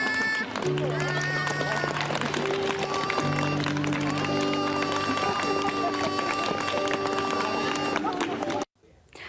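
Applause and cheering after a girl's street music solo in Dresden, a crowd clapping steadily over sustained musical tones and a murmur of voices, ending abruptly.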